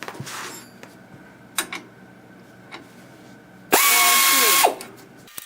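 A power tool drives a U-bolt nut on the leaf springs of a first-generation Camaro, one loud, steady, whirring burst of about a second, close up, with scattered clanks of metal before it and no talk.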